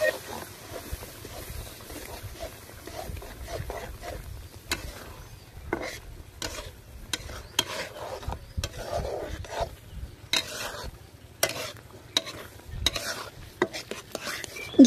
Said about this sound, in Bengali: ঘিলু দিয়ে দেওয়ার পরে সমস্ত কিছুকে ভেজে নিব প্রায় 2 মিনিটের মতো